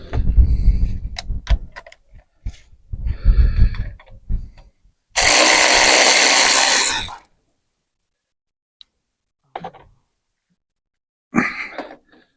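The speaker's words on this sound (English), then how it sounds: "Got my top of the range electric cordless ratchet thing made by Fancy Times." Top-of-the-range electric cordless ratchet by Fancy Times, used while working on a Toyota MR2 that has sat for 18 years, gives one loud steady buzzing whir lasting about two seconds after speech, then brief faint clicks.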